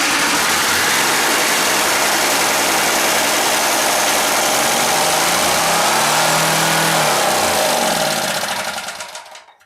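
Rebuilt 20 hp Briggs and Stratton engine runs loud and steady at a high, even rev for about nine seconds, then cuts off abruptly at the end; no talking.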